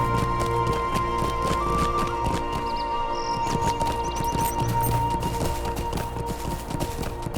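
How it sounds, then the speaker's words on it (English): Horse hooves in the game Lord of the Rings Online, a rapid steady clip-clop of galloping footfalls repeating throughout, mixed with dense game sound effects and tones. "Let's get on my horse."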